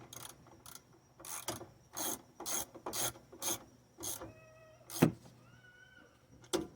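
A ratchet wrench tightens the bottom bolt during a car brake replacement, giving a series of rapid ratcheting bursts in an irregular rhythm, close and fairly loud, with one sharper metallic clank near the end and no talking.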